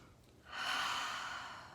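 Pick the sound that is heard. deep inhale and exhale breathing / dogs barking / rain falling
deep inhale and exhale breathing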